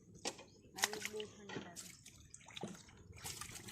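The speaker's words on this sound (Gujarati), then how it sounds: "કિશનનું મમ્મી કપડાં ધોવે છે" Faint splashes and drips of cold water as clothes are washed by hand outdoors in a village, with water from a motor pump, heard quietly under and between nearby talking.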